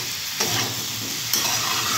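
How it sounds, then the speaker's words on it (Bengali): Watermelon rind frying dry in a pan with no water, a continuous close sizzle with stirring scrapes and two sharper utensil strokes against the pan. "একদম জল দেবেন না, এইভাবে আপনারা ভাজতে থাকবেন"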